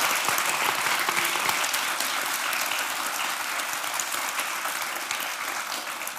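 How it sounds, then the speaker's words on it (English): Warm audience applause fills the hall after a lecture on the IPCC 2022 report on mitigation of climate change: dense, steady clapping from many hands, close and loud, holding evenly for the whole stretch before easing slightly at the end. "So please, warm applause again for Heleen de Coninck."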